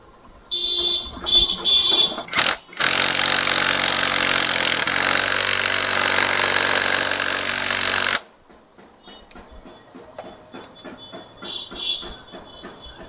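A Hero Splendor motorcycle with an intermittent current and starting fault is kicked, then its engine roars loud and steady for about five seconds before cutting off, leaving faint ticking, rattling idle-like clatter afterward.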